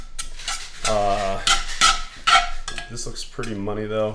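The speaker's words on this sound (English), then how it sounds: "We're supposed to continue sauteing." Utensils clink and scrape against a pan while empanada filling is sauteed on a stove, with light metallic taps heard under close, steady talking.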